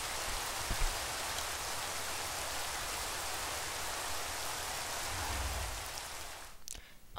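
Steady broadband rain hiss from a building video game, continuous and fairly loud for most of the stretch, then thinning out and cutting off near the end as the shower stops.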